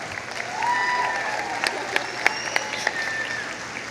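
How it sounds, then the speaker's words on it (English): Steady applause from an audience at a school graduation ceremony fills the space, with scattered sharper claps standing out and faint whistling tones drifting through. "Please, everyone, join them in a round of applause."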